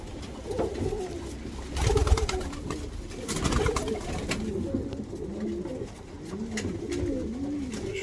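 Several small pigeons in a loft coo in soft, repeated rolling calls, rising and falling continuously under a busy background of rustling and fluttering.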